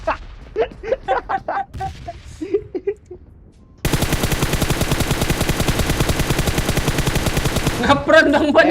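Gunfire in PUBG Mobile erupts as a loud, sustained rapid-fire burst of machine-gun shots lasting several seconds, after a stretch of excited talking, with voices resuming as it ends.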